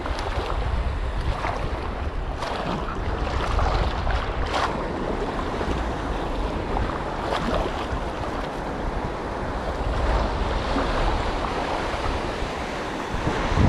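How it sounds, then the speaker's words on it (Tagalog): Steady wash of small waves lapping against a fishing boat's hull, with light wind rumbling across the microphone throughout, no voices. "parang alon-alon lang siya mga master, pero hindi gano'ng kalakas"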